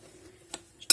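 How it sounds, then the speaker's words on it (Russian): A fork mixes curd cheese dough with sugar, flour and egg in a bowl, making a few quiet scrapes and then a sharp metallic clink against the bowl near the end. "Перемешивать лучше вилочкой."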